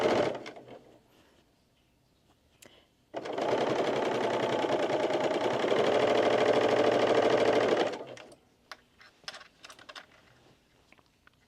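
A coverstitch sewing machine stitches binding onto fabric in one continuous whirring burst of about five seconds. Scattered light clicks and handling taps come before and after.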